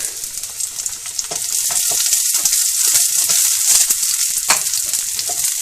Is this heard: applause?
no